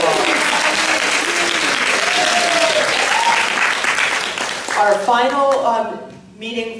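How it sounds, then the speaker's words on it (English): Dense applause from an audience at a master gardeners club meeting holds steady for several seconds, then thins and fades as a voice begins speaking over the last of it. "Let's give her a round of applause."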